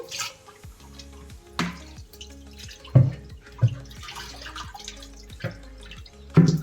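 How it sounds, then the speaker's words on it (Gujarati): Water is poured into an old clay water pot and swished by hand to wash it, with irregular drips, splashes and sloshing bursts repeating close by and no talk. "અંદર 4-5 વખત પાણી નાખી અને આપણે ધોવાનું છે અને હાથ ફેરવી અને સારી રીતે બધી બાજુ આપણે ધોઈ લેવાનું છે"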